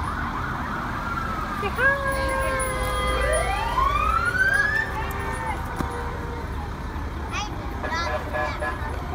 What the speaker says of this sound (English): Here come some fire trucks and ambulances.